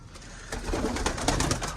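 Several pigeons coo steadily at close range, a soft continuous murmur that swells and stays level for most of the moment, with no talking.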